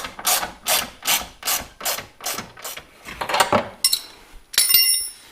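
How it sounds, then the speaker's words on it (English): A ratchet tightens the skid plate bolts on a Can-Am XMR 850, with about eight evenly spaced bursts of close clicking, then a few irregular rasping clicks and a final burst. "now I can tighten the rest of the bolts on that front plate"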